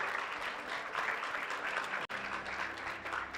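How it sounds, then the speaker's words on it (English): Audience at a national youth environmental speaking final applauds with steady, moderately distant clapping that briefly cuts out midway before resuming. "Please give them another round of applause, everybody."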